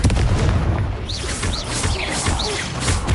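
In Hogwarts Legacy, the Confringo blasting spell goes off in a run of booming explosive blasts over continuous rumbling game sound, with a few whooshing swishes between the impacts.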